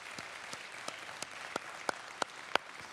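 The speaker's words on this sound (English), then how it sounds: "Somebody give them a round of applause." A church congregation claps for its worship team, with sharp, evenly spaced claps falling in a steady rhythm about three per second. The claps sound moderately near but not loud.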